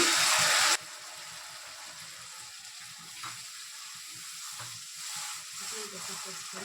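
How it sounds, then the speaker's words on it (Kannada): Tamarind juice poured into hot seasoning for tamarind rice gojju, heard as a loud hiss as the liquid hits the pan, which quickly settles into a steady lower sizzle with faint bubbling and stirring. "ಇಮಿಡಿಯೇಟು ಹುಣಸೆಹಣ್ಣು ರಸ ಸೇರಿಸ್ಕೊಳ್ತೀನಿ."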